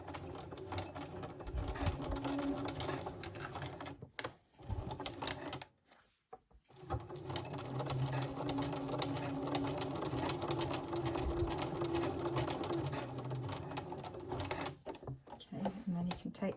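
A sewing machine on a zigzag stitch whirs close by in long stitching runs through sash cord rope, stopping briefly a couple of times before starting up again.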